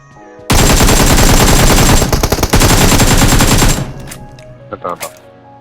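Rapid automatic gunfire in a shooter video game, one loud sustained burst lasting about three seconds with a short stutter midway, then fading into quieter game sounds.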